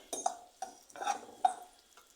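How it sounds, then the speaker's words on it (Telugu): Green chillies frying in oil in a pan with a spoon scraping and stirring, a few quick strokes over a soft sizzle, close and fairly quiet. "2 పచ్చిమిర్చి అండి, ఆయిల్లో వేసుకొని బాగా వేపుకోవచ్చు."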